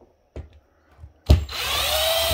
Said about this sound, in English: Here it goes. Ryobi, thanks for not sponsoring my channel.